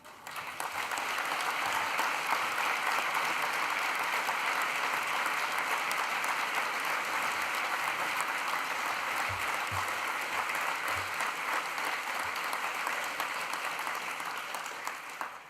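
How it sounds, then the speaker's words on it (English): A graduation audience breaks into sustained, loud applause, a dense even roar of clapping that holds steady for the whole stretch before easing off slightly at the end. "that round of applause is deserved"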